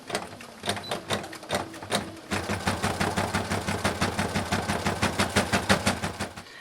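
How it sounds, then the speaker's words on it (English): A sewing machine stitches an apron a quarter inch from a folded edge, a close mechanical whir with rapid, even needle thumps that start after a few slower stitches. "I'm stitching a 1/4 inch in from the folded edge."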